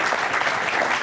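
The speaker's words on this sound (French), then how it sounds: "on applaudit encore une fois Houda" A studio audience on an Algerian TV talk show applauds Houda, a dense, steady burst of clapping that fills the short moment at full volume with no voices over it.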